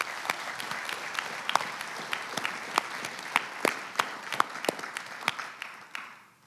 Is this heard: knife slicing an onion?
no